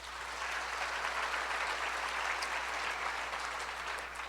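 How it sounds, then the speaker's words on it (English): An audience at a theatre talk applauds, a steady, dense wash of clapping that holds at an even level throughout with no voices over it. "Applaud if you do."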